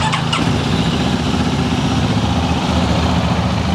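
A 2024 Benelli 502X motorcycle engine idles steadily nearby, a low continuous rumble with a faint brief mechanical click at the start and no talking.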